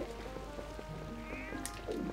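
A cat meows in The Legend of Zelda: Twilight Princess, one short game-sound mew over steady background music, with no talking.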